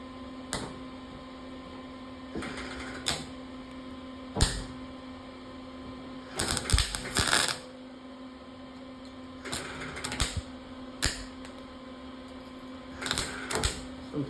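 An old welder works on sheet metal in short, spaced bursts of crackling buzz, each lasting a second or so, over a constant electrical hum in a quiet workshop.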